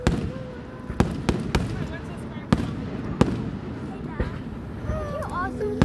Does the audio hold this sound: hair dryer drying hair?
no